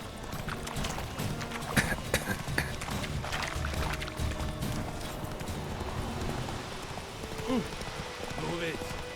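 Roach, Geralt's horse in The Witcher 3, gallops with a steady run of hoofbeat clip-clop under game ambience, with a voice speaking over it partway through.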